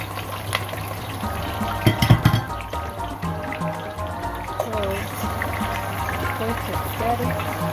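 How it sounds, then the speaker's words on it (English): Sliced onions hit hot oil for red oil jollof rice and fry with a steady crackling sizzle, a brief clattering burst near the start, over a low constant background hum. "you can see my oil are just hot, so I'm going to put my sliced onions"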